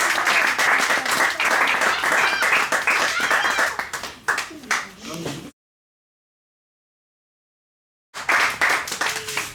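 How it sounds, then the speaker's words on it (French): A church congregation at a Sunday service in Odza breaks into loud, sustained applause with mixed cheering voices. The sound cuts to silence midway, then the clapping resumes. "Est-ce que vous pouvez acclamer pour ce témoignage?"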